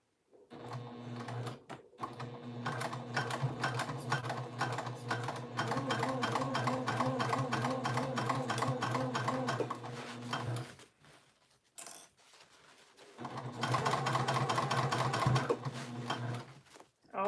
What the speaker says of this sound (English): I'm going to sew at a 1/2 inch seam allowance